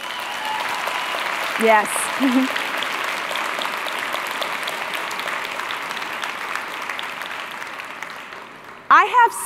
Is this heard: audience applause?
yes